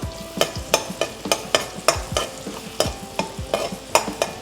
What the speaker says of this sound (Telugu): సో బటర్ మెల్ట్ అయిన తర్వాత నేను ఒక స్పూన్ చాప్డ్ వెల్లుల్లిపాయలు, గార్లిక్ తీసుకున్నా, వేసేసి అది బ్రౌన్ అయ్యేదాకా కొంచెం స్టిర్ చేసుకోండి